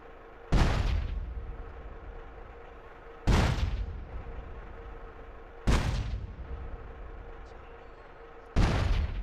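Tank shell explosions in GTA San Andreas: four loud, sharp blasts spaced a few seconds apart, each decaying into a rumbling tail over a steady low hum.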